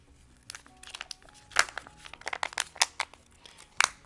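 A first aid dressing package is torn open at its tear notch, with a string of crinkly rips and crackles of the wrapper close by, bunched into a few sharp bursts.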